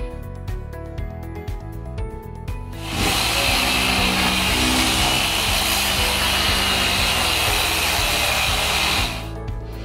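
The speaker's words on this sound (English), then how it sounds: "I'm using an orbital sander with 80 grit sandpaper." An orbital sander fitted with 80 grit sandpaper scuffing a countertop whirs up loud and close into a steady, hissing grind for about six seconds, then winds down.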